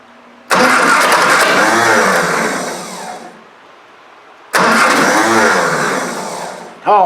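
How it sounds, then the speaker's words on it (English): A Triumph Spitfire under restoration cranks and fires twice, each start a sudden loud burst settling into a steady idle for a few seconds before dying away, recorded close with no talking. "So I'll start the car up here"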